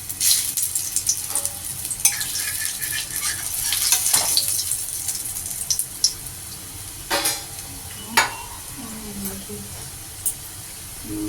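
Pieces of besan barfi fry in a pan for a curry, giving a close sizzle with occasional stirring scrapes that fade to quieter bubbling, and a voice is heard at times.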